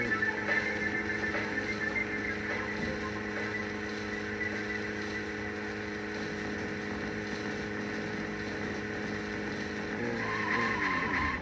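Engine drone of a car in the Deadly Premonition video game, steady and close throughout, with a rising whine and tire-skid squeal near the end as the vehicle turns.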